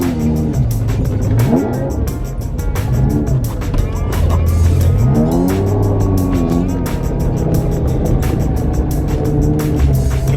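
A Lamborghini drifts off-road, its engine revving up and down in repeated surges with tire and gravel noise, loud and close, while people talk over it.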